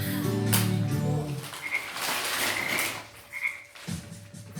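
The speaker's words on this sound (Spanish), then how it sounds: "sabes cómo hace la rana. Vamos a escucharla tú y yo." A frog croaks in a recording of animal sounds, rough repeated calls that rise and fade over a few seconds, fairly close and clear with no talk.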